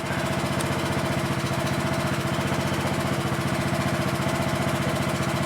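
Craftsman LT1000 16HP lawn tractor engine idling slightly high, a steady close-up mechanical drone with fast even pulsing that holds without change throughout.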